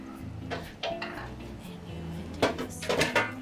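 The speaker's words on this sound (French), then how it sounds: "je vais enlever le carré d'agneau de mon récipient, donc de ma poêle" Metal clatter of a rack of lamb being lifted out of a frying pan, with scraping and clinking of utensils against the pan, close and busy over a low background hum.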